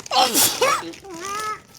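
A female video game character sneezes, a short voiced burst followed by a wavering breathy sound.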